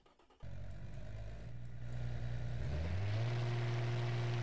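A 90 degree V6 car engine in a video game, starting after a short pause, idling as a low hum, then revving up with rising, rough pitch that holds at a louder buzzing drone.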